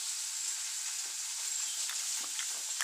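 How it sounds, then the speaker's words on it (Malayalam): An egg fries in a pan with a steady, close, hissing sizzle and faint crackles throughout, with no voices. "ഒത്തിരി നാൾ കൂടി മുട്ട പൊരിക്കുകയാണ്"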